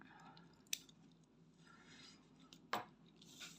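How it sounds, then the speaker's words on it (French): Scissors snipping embroidery thread during cross-stitch, two crisp, quiet cuts a couple of seconds apart against faint background rustling. "On coupe."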